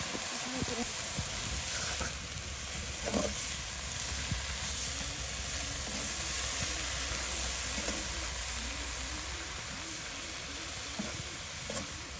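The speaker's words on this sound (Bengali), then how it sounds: "ইচা মাছগুলো ভাজা ভাজা হয়ে গেছে, এখন শাকগুলো দিয়ে দিলাম" Greens and small river shrimp fry together in a village kitchen on Hatiya, producing a steady broadband sizzle with light scrapes and clinks from stirring.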